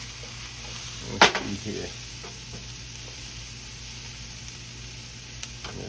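Onions frying in a skillet for a country breakfast, a soft steady sizzle with one sharp clatter of a utensil near the start, while someone briefly speaks.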